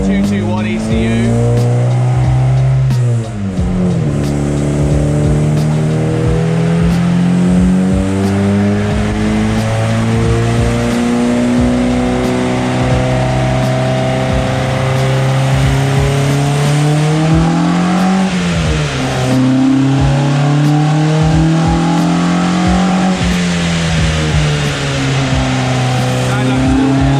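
Ford Escort Mk3 estate running an ME221 ECU revs hard and steadily against its rev limiter, a loud sustained engine drone with a brief dip early on and a wavering pitch, close and continuous throughout.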